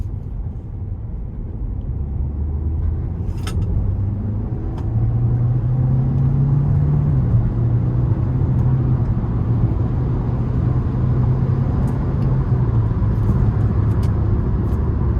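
A 2026 Hyundai Kona with a 1.6-litre turbo four-cylinder pulls away in sport mode. The cabin engine drone rises steadily in pitch and loudness over several seconds, then holds a moderate hum.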